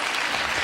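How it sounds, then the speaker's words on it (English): At an arangetram dance recital, the audience breaks into a brief, thick burst of applause, loud and continuous. "But I want a round of applause for doing a good job."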